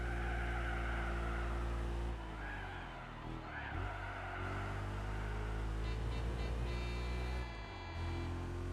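Steady car engine drone in Gran Turismo 4, a low humming tone that dips and recovers as the car shifts and corners, with someone speaking over it.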